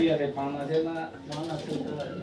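Pigeons of a blue bar breed cooing in a loft, low rhythmic coos running steadily underneath someone talking nearby throughout.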